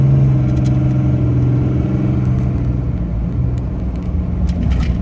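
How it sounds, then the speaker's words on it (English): A Ram truck with a Cummins 6.7L diesel, towing a trailer, slows under its turbo brake: a steady, loud, close low engine drone and rumble that holds throughout with slight fluctuations. "Just slows down super quick with the turbo brake."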